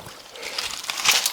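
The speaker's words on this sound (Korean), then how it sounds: "졸졸 이렇게 흐르죠." A mountain stream trickles close by where wild mountain cress grows, giving a soft, steady, hissing babble with small splashy bursts near the end and no voices.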